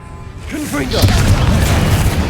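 A Confringo spell blast in Hogwarts Legacy lands as a loud booming burst that rolls into a rumbling crash, with a voice shouting just before it.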